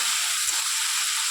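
Taro stolons (kochur loti) fry in a pan with a loud, steady sizzle and crackle of hot oil, continuous and close, with a faint stirring bump in the middle.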